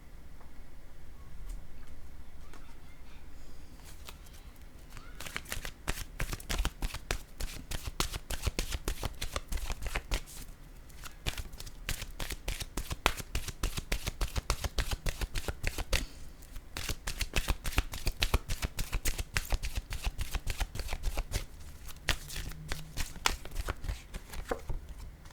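Oracle cards shuffled by hand in a long, steady run of rapid riffling clicks, close and fairly loud, starting after a few seconds of quieter handling.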